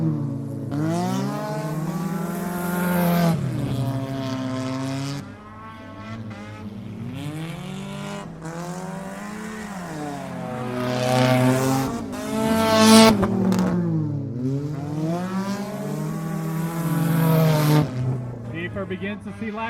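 Race cars roar past on a straightaway late in a short-track race, engine notes rising and falling in repeated Doppler sweeps as cars pass close by, loud and continuous, with no talk over them.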